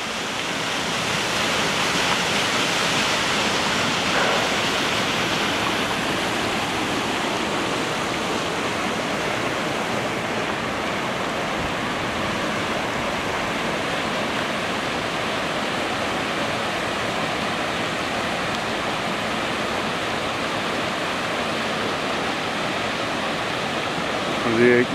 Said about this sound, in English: This is the spillway here. Give you some idea how big the drop is at this lock.